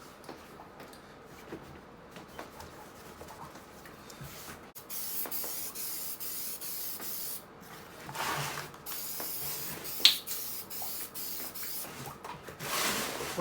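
An aerosol spray can hisses in several bursts over a Mercedes Sprinter steering wheel, with longer sprays near the end and small clicks and rubbing between them.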